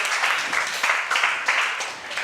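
An audience claps and cheers for a little girl, steady applause with rhythmic swells that keeps going without a break across the short stretch.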